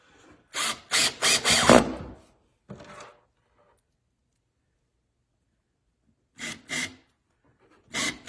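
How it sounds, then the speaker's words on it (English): A power drill drives screws into wooden boards for a porch flower box, giving a run of four or five loud whirring bursts, a softer short one, and after a quiet pause two more paired bursts, close and with no talk. "We put 2 screws in each board."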